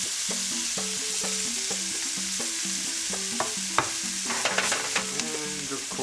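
Tomatoes cooking in a pan for empanada filling, with steady stirring and scraping of a utensil against the pan over a soft sizzle, plus a few sharp clinks near the end, close and moderately loud.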